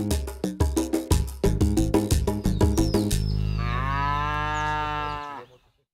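A cow on a small family farm lets out a long, loud, close moo that swells and then fades, preceded by a run of rhythmic musical plucks.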